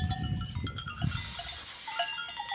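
Goats out in the caatinga scrubland bleat among low rumbling handling noise and rustling, with a few tonal calls rising above the steady background.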